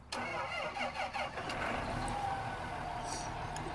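A John Deere 8030 tractor engine in a video game cranks and catches, then settles into a steady, fairly loud mid-pitched running rumble with no talk over it.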